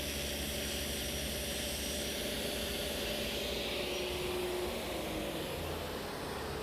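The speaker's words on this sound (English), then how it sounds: "make a nice square cut on this piece of sheet stock using my panel cutter" A panel cutter on a table saw slices through sheet stock with a steady, loud whirring roar that holds unbroken for several seconds.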